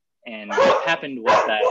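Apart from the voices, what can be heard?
dogs barking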